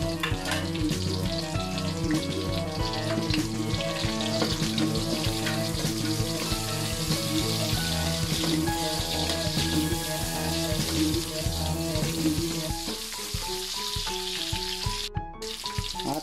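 Onions frying in a pan for Bicol-style pancit bato, a continuous loud sizzle with stirring scrapes, close, while a steady tonal background hum plays along.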